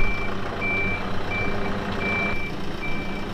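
Steady, evenly spaced reversing beeps from a truck sound against a constant low engine and road rumble outdoors, with no one talking over them.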